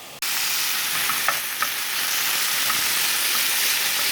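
Thinly chopped onion frying in a hot pan hisses in a dense, even sizzle, with a few light scrapes from stirring, close up and without any talking.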